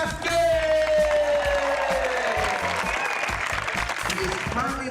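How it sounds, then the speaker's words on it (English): Tennis crowd applauds as a player is introduced, loud clapping mixed with whoops and cheers, with an announcer's drawn-out voice riding over the start and the applause holding steady. "Can we have a big round of applause"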